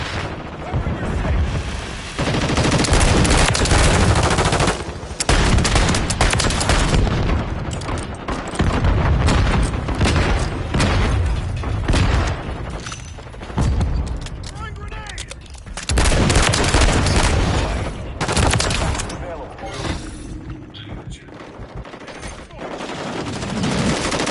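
Sustained gunfire in Call of Duty: Modern Warfare 3, with dense automatic bursts and booming shots that surge and ease in waves over about twenty-four seconds. The shooting is loud and close, and game voices are mixed in.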